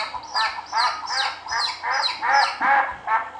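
Ducks on a farm give a steady run of loud, nasal quacks and honks, about two calls per second, close by with no talking.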